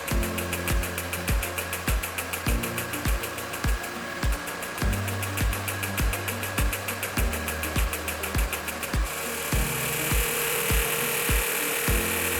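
Perfect Shape NEO body sculpting machine running a treatment cycle, giving a steady electronic hum with regular rhythmic pulsing beats and a high buzzing tone that shifts partway through.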